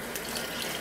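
Water pours steadily into a jar to cover pickled melon, a continuous close splashing gush with no talk.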